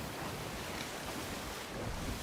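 Heavy ocean waves and wind surge steadily around a sailing ship in the Sea of Thieves pirate game, a dense, continuous roar of surf and gusting air with no voices.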